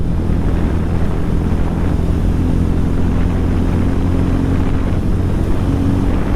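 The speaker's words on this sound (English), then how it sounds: "The only reason was the wind noise inside the helmet" Steady, roaring wind buffeting inside a motorcycle helmet, rushing through gaps around the visor while riding a 2024 TVS Ronin, with a low rumble underneath; loud and continuous throughout, with no voices.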